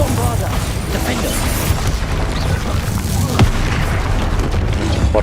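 Spell explosions such as Confringo and Bombarder go off in Hogwarts Legacy, rumbling booms and bursts amid game effects, with talk over them.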